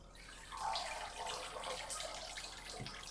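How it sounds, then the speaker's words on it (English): Rinse water from washed lettuce drains and is tipped down a kitchen sink, a steady splashing pour with light trickles and drips, close and moderately loud, with no talking. "Let the excess water drain away and tip this down the sink."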